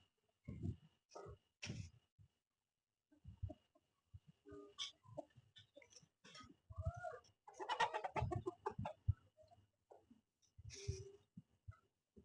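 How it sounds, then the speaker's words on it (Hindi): A rooster and hen calling on a farm: scattered bursts of crowing and clucking come and go between short silences, fairly faint and without talk. "क्या मुर्गा है हमारा"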